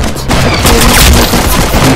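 Rapid gunfire from the video game Arsenal, a loud, dense burst of overlapping shots and booms that carries on without a break.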